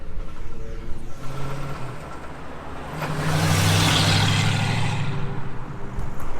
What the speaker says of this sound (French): la Mustang verte qui vient de passer